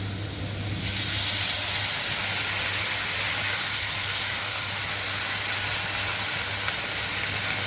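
Water poured into a hot pan of frying patol (pointed gourd) with salt and turmeric bursts into a loud, steady steam hiss that holds for several seconds.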